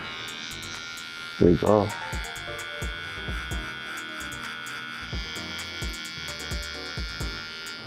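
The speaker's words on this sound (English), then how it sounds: "You don't hear it cutting any hair. All you hear is this loud ass motor." Cheap Walmart electric hair clippers run with a loud, steady motor buzz and hum throughout. Someone speaks briefly over the drone, and there are a few louder bumps near the start.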